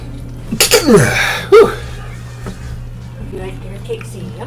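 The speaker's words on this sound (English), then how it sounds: "Start this match off with a sneeze." A person sneezes once, loud and close, with a quick sharp burst followed by a vocal tail, over a low steady hum, while playing Dead by Daylight.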